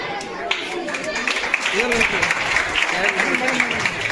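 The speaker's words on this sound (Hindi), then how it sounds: "बहुत ही बच्चों की तालियों में गड़गड़ाहट होनी चाहिए।" Children applauding at a school farewell ceremony in India, a steady, dense wash of clapping that holds for several seconds while an adult voice speaks over it.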